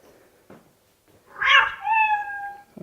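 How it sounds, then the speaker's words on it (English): A cat sound plays from a Hopspots memory game for animal sounds: one clear, drawn-out meow, close and loud, after a couple of faint taps. "Sound of a cat."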